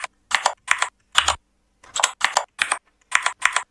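Numbers being typed on a computer keyboard while filling a Microsoft Word table: about ten crisp, close keystrokes in an irregular rhythm, each distinct and separated by short pauses, with no voices.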